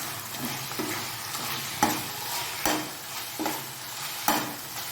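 A spoon stirs mint and coriander through frying biryani masala of onion and tomato, giving regular scraping strokes over a continuous close sizzle.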